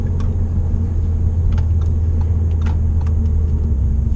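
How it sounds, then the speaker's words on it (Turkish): Inside an Audi A3 Sedan 35 TFSI S line with a 150 hp engine cruising above 200 km/h, a heavy low road and engine rumble drones steadily with faint ticking rattles above it. "200'den sonra bile ne kadar istekli yürüdüğünü zaten motor karakterinden anlıyorsunuz."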